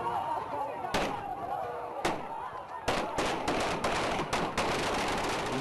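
Police gunfire at an aid distribution in a village in Argo district, Afghanistan: sharp isolated cracks at first, then a rapid burst of repeated shots, moderately near over a steady background of crowd noise.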